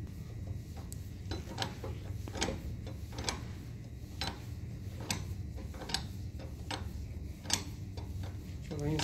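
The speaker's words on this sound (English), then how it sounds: "Now I will close it." A gate valve is being closed by turning its handwheel, giving a steady run of soft, evenly spaced metallic ticks and clicks over a low background hum.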